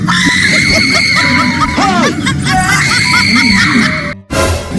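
A person working out lets out loud, piercing shrieks and cries, close and sustained for several seconds before cutting off abruptly.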